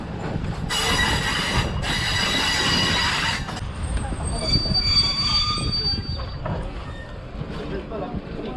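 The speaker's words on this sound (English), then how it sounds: "Okay, another train is passing." A passing train heard from inside another stopped train in Transylvania, Romania, with loud rumbling wheels and high metallic squeals that ease off as it goes by.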